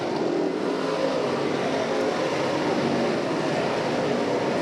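DIRTcar Sportsman race cars roar around the Can-Am Speedway dirt oval in Lafargeville, New York, a continuous loud blend of several engines under steady throttle with no clear voice.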